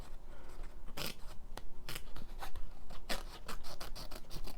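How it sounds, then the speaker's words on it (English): Scissors snip through masterboard paper that is tea and coffee dyed, a series of close, crisp cuts that come irregularly then faster, with quiet rustling between them. "Can I now cut it round there?"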